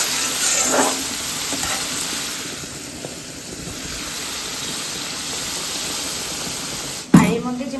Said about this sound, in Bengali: এবার এই মশলাটাকে ভালো করে কষিয়ে নেবে এবার, তাই তো?